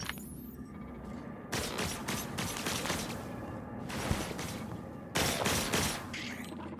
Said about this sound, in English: I should probably use my shotgun, shouldn't I?